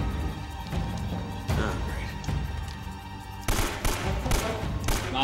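Gunfire from the video game Uncharted: Drake's Fortune, a series of sharp close shots and thumping impacts with bursts of louder firing toward the end, over game background sound.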